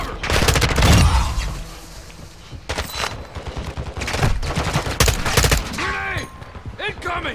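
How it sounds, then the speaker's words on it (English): Bursts of rapid gunfire from the video game Call of Duty DMZ come one after another, loud and close, with explosions and radio-style voices talking over the shooting. "I'm taking fire!"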